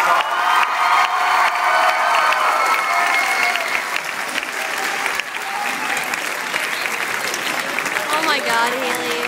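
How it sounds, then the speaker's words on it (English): Loud applause and cheering from a crowd of students at a high school winter guard performance, dense continuous clapping mixed with shouts and whoops, with voices calling out throughout. "So one more round of applause for the winner of the performance."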